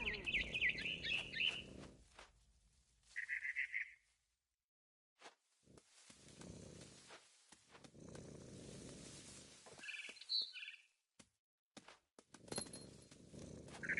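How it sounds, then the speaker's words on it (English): Barn swallow chirping in the video game What Remains of Edith Finch, a few bright high chirps in short bursts near the start and middle, alongside soft rustling game sounds and quiet stretches. "Then I heard chirping outside my window. It was a barn swallow going back to her nest."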